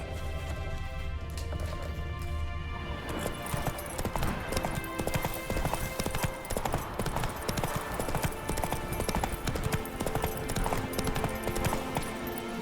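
Roach the horse walking in The Witcher 3, a steady close run of hooves clip-clopping in an even rhythm over a continuous outdoor backdrop, loud and unbroken for the whole stretch.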